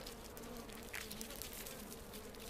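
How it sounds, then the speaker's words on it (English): Native Japanese honeybees at a hive in a hollow tree, giving a low steady buzzing hum heard faintly and evenly throughout. "But these are native Japanese honeybees, and they're not quite as defenseless as their European cousins."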